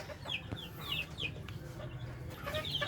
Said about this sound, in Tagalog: Ito yung manok na binigay sa akin na isang incentives yon.